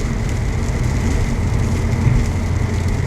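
Rain pours down continuously during a Canadian harvest day, an unbroken nearby wash of patter with no breaks and no one talking.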